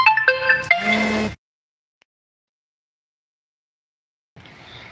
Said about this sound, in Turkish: Telefonum çaldı.